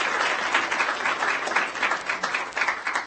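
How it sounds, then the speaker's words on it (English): Audience applause at a school district board of trustees meeting honoring Assemblywoman Selena LaRue Hatch, a steady dense roar of many hands clapping throughout, fairly loud with no talk. "You can clap for her."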